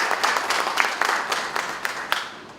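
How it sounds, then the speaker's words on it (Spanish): Audience applause for a speaker at a talk on territorial planning as a development strategy, a steady patter of clapping from a moderate crowd with a few sharper claps standing out, sustained throughout at modest loudness. "yo pido un fuerte aplauso para el doctor Julián Mora"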